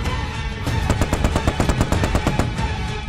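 Loud, rapid machine gun fire rattles out in quick bursts of evenly spaced shots, close and sharp, with no talking.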